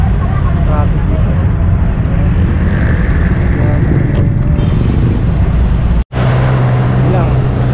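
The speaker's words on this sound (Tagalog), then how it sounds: "Traffic dito." City traffic flows by while riding on a highway, a dense continuous rumble and whoosh of passing vehicles with wind noise, broken by a sharp dropout near the end before the drone resumes.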